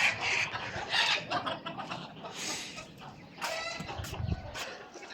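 Several chickens clucking and squawking agitatedly close by, with brief sharp cries and scuffling, in bursts over the whole stretch.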